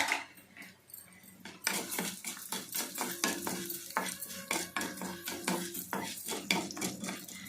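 Urad dal stirred and roasted in a pan while making a peanut and coconut chutney, producing repeated dry scraping and rattling spatula strokes in an uneven rhythm, close and fairly loud with no talking.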